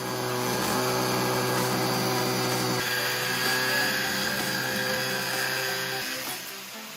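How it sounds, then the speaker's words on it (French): Power cutting tool slicing through a PVC reducer fitting on a bathroom drain: a close, steady high-pitched whirring drone holds with little change, then drops away in the final second. "Nous utilisons un outil de découpe pour couper le raccord de réduction en PVC."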